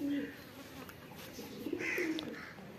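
Pigeons coo softly inside a loft, a few low rolling calls rising and falling close by, with faint buzzing of insects in the background.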